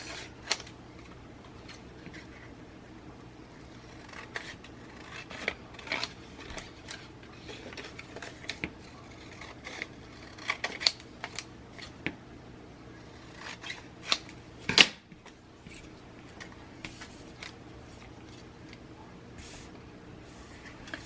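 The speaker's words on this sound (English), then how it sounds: "And you could even cut away extra, like you don't need all of this." Scissors cut through sheets of vellum paper during a painting craft project, giving quiet, scattered snips and crisp clicks spread over a stretch of near-silence, close and with no talking.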